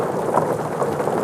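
Hail mixed with icy sleet drums loudly and continuously on a tin roof in the mountains, a dense steady rattle heard close up with no talking.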